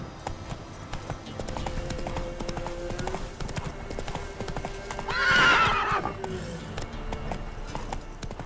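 Roach the horse in The Witcher 3, a fast rhythmic clip-clop of galloping hooves throughout with a loud, clear neigh rising near the middle against game ambience.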